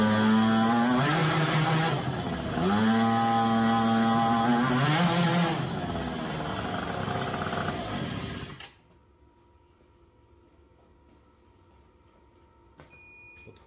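A small Yamaha Aerox scooter engine, carburetor just worked on, revs loudly up and down in repeated surges, then cuts out, leaving quiet background hum and a faint click at the end.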